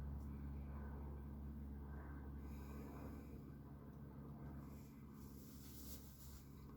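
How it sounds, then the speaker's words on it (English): A propeller or jet plane drones steadily overhead, a low continuous rumble that holds for several seconds and slowly fades, with faint breathing close by and no talk. "I am aware and I am noticing the noise of that plane."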